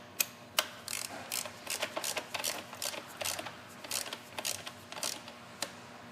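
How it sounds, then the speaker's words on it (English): Rapid clicking of a torque wrench ratcheting down upper intake bolts on a Ford Fusion 3.0L DOHC engine, bursts of close, crisp ticks repeating in quick rhythm with a few louder snaps, no talking. "we're going to torque the intake down"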